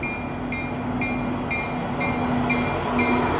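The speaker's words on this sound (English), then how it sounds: "I usually try to come every day for the 12 o'clock train." A train rolls past at a railroad track around midday, a steady, loud rumble of wheels on rails with regular rhythmic clicks roughly every half second and a faint sustained squeal, with no talk.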